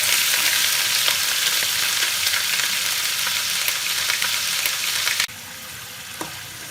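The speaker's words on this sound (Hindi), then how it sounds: "मसाले को हम अच्छे से फ्राई कर लेंगे।" Ginger garlic paste and onion fry as a masala on low heat for a matar mushroom curry, producing a loud, dense, steady sizzle that drops sharply quieter near the end, heard up close without talk.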